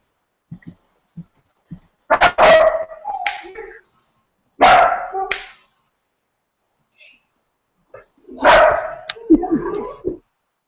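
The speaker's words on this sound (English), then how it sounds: "My dog." A dog barks in several loud, close bursts with short gaps, mixed with a few softer yips, and brief quiet stretches between the barks.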